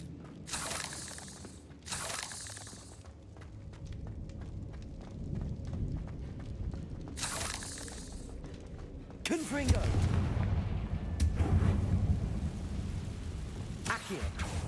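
Spell blasts in a Harry Potter video game, a series of loud bursting whooshes and impacts with shattering and booming effects over game noise, interspersed with voices.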